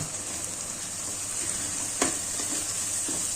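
Gram flour sautés in a pan for methi shak with a soft, even sizzle, punctuated by a few light scrapes or taps; no talking.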